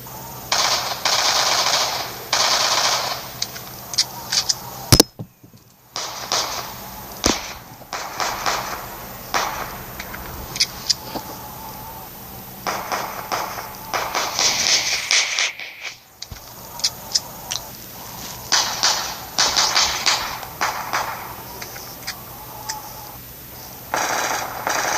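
Light machine guns from Call of Duty Black Ops fire in long, loud sustained bursts with short pauses between strings of rapid shots, close and dominant throughout.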